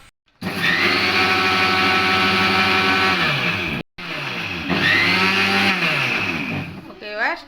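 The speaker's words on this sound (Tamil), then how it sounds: "இப்போ வாங்க நம்ம அரைக்கலாம்" Mixer grinder whirring loudly as it grinds coconut and sesame seeds for a sweet, a steady high-pitched motor roar that stops briefly, then restarts and runs on before winding down.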